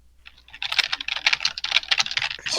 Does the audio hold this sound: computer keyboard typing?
yes